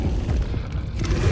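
Confringo spell from Hogwarts Legacy going off as a loud, dense booming blast, a single rumbling explosion filling the whole short moment with heavy low-end weight.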